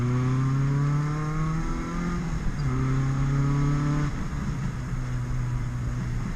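A Honda EJ6 Civic with a GSR transmission revving on a touge run, its engine note climbing steadily through the gears with short dips at each shift, close and continuous.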